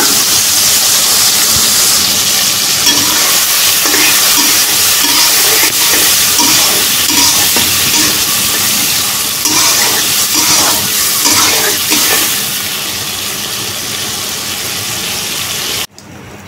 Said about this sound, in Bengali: সয়াবিন গুলা দিয়ে দিই।